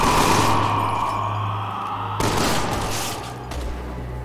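Sustained gunfire in the video game Resident Evil 6: a dense, loud roar of shots and booms that fades a little, cuts off sharply, then returns as a lower rumble.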